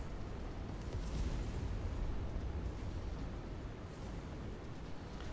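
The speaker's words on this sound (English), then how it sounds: "random explosions as you walk is so nerve-wracking" Continuous rumbling blasts and booming explosions in the video game MechWarrior 5 roll on with little pause, a dense, heavy wash of low noise without any voices.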